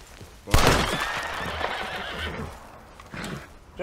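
A horse in the video game Red Dead Redemption lets out a loud, close whinny that rises and trails off over a few seconds, with a second shorter snort or whinny near the end.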